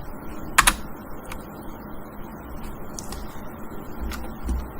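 Brief bursts of typing on a computer keyboard, close and fairly faint, with a few scattered keystrokes and short clusters of clicks in a quiet room.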